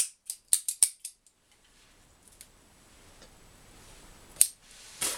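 Three sharp snips of a cutter trimming the head of a Cuaba Distinguidos torpedo cigar, a quick cluster of clicks at the start, then near silence until two more crisp clicks near the end.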